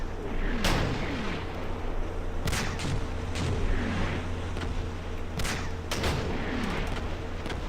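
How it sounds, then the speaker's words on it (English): Mortar and artillery fire in the WWII strategy game Combat Mission Market Garden, a series of sharp booming shots scattered irregularly over a constant low rumble, moderately loud and distant-sounding, with no voices. "All my mortars are fired."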